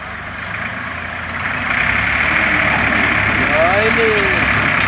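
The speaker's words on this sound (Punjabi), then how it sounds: "ਦੋ ਟਰੈਕਟਰ ਨਾਲ ਹੁਣ ਜ਼ੋਰ ਲਵਾਉ ਹੁਣ।" Two tractors strain together, pulling hard in a flooded village. Their engines give a loud, steady drone that swells partway through, with voices calling over the noise.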